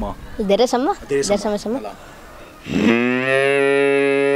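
A person's voice imitates a long cow moo: a steady, sustained tone held for nearly two seconds right after a short stretch of talking.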